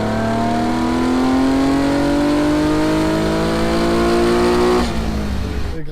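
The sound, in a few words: Fiat Dino Spider engine roaring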